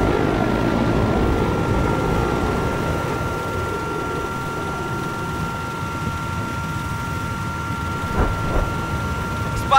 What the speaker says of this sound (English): Looks like we have an enemy helicopter south of your location.